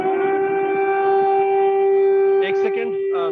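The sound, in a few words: civil defense air raid siren in Ukraine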